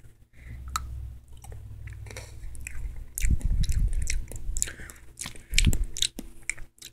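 Biting into and chewing a strawberry snack, with crisp crunches and moist mouth sounds close to the mic, two louder bites standing out over a low background hum.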